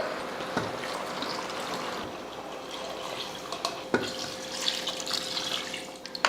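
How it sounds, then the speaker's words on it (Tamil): Water pours steadily into a pot of country chicken curry with a soft, continuous splashing and trickling, a few faint clinks of utensils here and there. "இப்போ தண்ணி சேர்த்துடலாம்"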